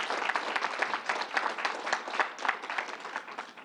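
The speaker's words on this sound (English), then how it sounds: "Give the whole group and the National Guard a round of applause for what you're doing here." Steady applause from a gathered crowd at a fairgrounds distribution site, honouring the National Guard; dense, continuous clapping at moderate level with no talk over it.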